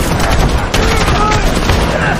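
Dense, loud gunfire from a Korean action film, with police bullets sprayed at hooded attackers in a continuous volley that cuts off abruptly at the end.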